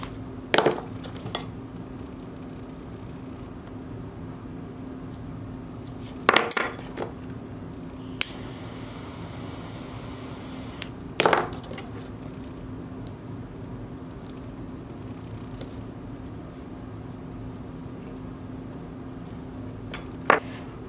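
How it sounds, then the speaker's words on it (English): A metal butter knife presses burned cord ends flat, giving a few sharp, brief metallic taps and clicks spaced far apart over a quiet, faintly humming background. "You're going to burn them and you're going to squish them down with something metal. I am using a butter knife."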